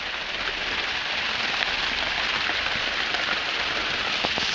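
Heavy rain pours down steadily during a Kalbaishakhi storm, a dense, loud, even hiss of drops pattering on surfaces, close by and without talk.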